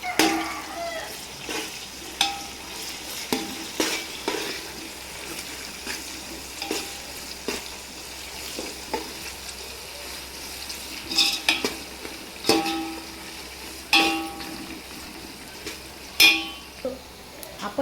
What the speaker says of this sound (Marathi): आपण आता कांद्यामध्ये कढीपत्ता टाकूयात आणि आपण चांगलं परतून घेऊयात.